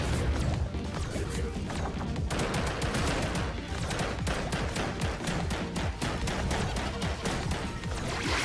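Rapid gunfire rattles on in a Ratchet & Clank game, a dense stream of sharp shots and crashing impacts lasting several seconds at steady loudness.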